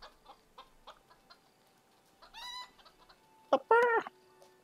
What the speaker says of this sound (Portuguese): A galinha.